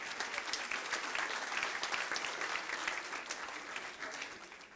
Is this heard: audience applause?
yes